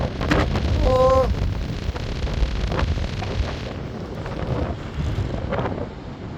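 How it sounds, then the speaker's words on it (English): At the seaside in County Kerry, strong wind buffets the microphone in a loud, steady rush as it blows foam off the salty brine, with faint surf underneath. "The wind blowing the foam off the salty brine."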